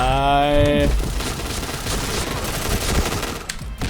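Rapid gunfire in the shooter game Point Blank crackles as a dense, sustained burst of shots after a brief tonal game sound at the start, loud and close, with someone speaking.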